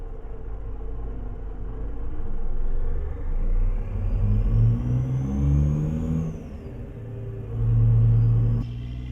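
A Kenworth 521 needle-nose truck engine in American Truck Simulator idles with a low, steady rumble, then swells twice as it revs up before settling back, heard alone with no talk.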